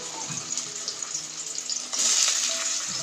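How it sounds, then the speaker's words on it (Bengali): Carrots and potatoes sizzle in hot oil in a wok, a steady close-up hiss that grows louder and fuller partway through. "প্রথমে আমরা গাজর আলুটাকে তেলে ভেজে নেব"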